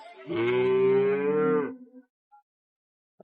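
A single long, loud moo from a Friesian dairy cow at Ambari cattle market, steady and close, lasting over a second before trailing off into quiet.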